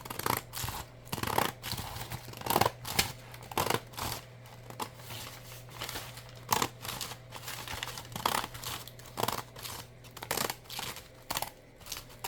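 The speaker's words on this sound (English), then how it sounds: "we're going to cut it right here" Scissors snip through paper for a junk journal in a steady run of crisp, close cuts with soft crinkling and rubbing between them, quiet and without voices.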